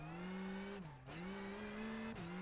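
A rally car on gravel stage SS13 Tarzan at the Acropolis Rally in Greece holds a steady, loud engine note, its revs dipping briefly twice as it drives through.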